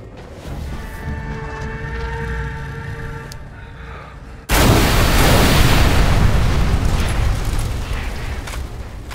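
A mortar firing in Dead Island 2, a sudden loud blast cutting through a humming mechanical background and trailing into a long rumbling, noisy wash that stays loud until the end.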